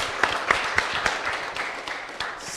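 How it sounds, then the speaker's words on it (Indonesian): Audience applause at an Indonesian talk show discussing life abroad in Europe: scattered claps with a few sharper hits, moderately loud and steady for a couple of seconds, with no talking over it. "Kita kasih tepuk tangan dulu dong."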